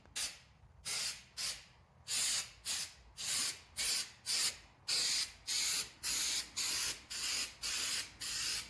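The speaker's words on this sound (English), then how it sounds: "So now we have to spray it after we sanded everything and wire brushed it." Bed liner sprayed onto a 1975 Chevy C10 truck bed after sanding and wire brushing, heard as a steady series of about fifteen short, loud hissing spray bursts with brief pauses between them and no talking.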